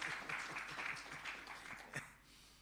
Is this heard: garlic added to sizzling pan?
no